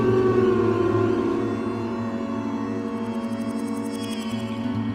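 A steady, droning siren tone in the VR game Is Anna OK?, with layered harmonics holding throughout, slowly wavering in pitch, loud and continuous with a faint pulsing hum underneath.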